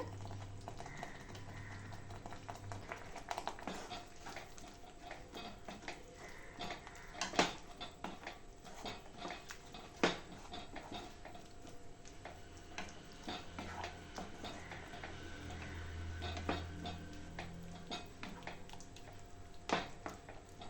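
Beetroot masala rice with turmeric and biryani masala is stirred in a pan, giving faint scattered clicks and soft scrapes of a spoon against metal over a quiet, low bubbling simmer.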